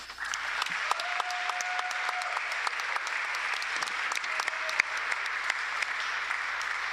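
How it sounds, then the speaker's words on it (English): Steady applause fills a high school gym at a girls' basketball senior night, honoring the seniors and their parents; continuous dense clapping with scattered sharper claps, loud and sustained throughout. "Let's please give one more round of applause for our seniors and their parents."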